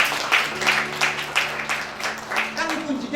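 Church congregation clapping during an Ascension Day worship service, a steady wash of applause with rhythmic hand claps over sustained organ or keyboard tones, with voices mixed in.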